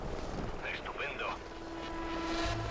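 Helicopters passing overhead in Call of Duty: Ghosts, a rumbling rotor drone that swells and fades under a voice, with a rising whine near the end.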